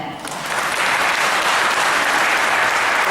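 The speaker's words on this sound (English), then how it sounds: "So I will give you applause on that." Audience at the ASEAN Valuers Association Congress in Yogyakarta breaks into loud, sustained applause that swells in the first half second and holds steady, with no speech over it.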